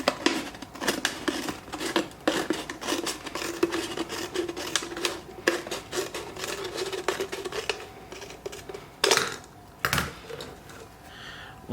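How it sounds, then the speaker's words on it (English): Sharp scissors cut the top off a plastic bottle, producing repeated crisp snips and crackling plastic scrapes in an irregular rhythm, close and moderately loud throughout. "get an adult to help you cut the top of the bottle using a sharp pair of scissors"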